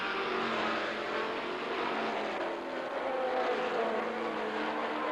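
Pace car at Lime Rock during a 1985 Can-Am Challenge race, a steady engine drone held at a constant pitch, moderately loud and continuous without voices.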